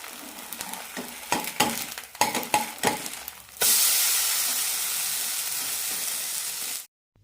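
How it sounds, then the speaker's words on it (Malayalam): Bread slices toast in a pan on a medium flame, first with several sharp scraping and stirring clatters, then a loud continuous sizzle that runs for a few seconds before cutting off abruptly. "മീഡിയം ഫ്ലെയിമിലിട്ട് ടോസ്റ്റ് ചെയ്തെടുക്കാം അപ്പോഴാണ് നന്നായി മുരിഞ്ഞ് കിട്ടുള്ളൂ"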